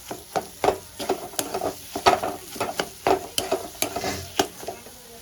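Spice masala for a brinjal bharta is sautéed and stirred in a pan, with a soft sizzle under repeated scraping strokes of a spoon in an irregular rhythm, close and moderately quiet.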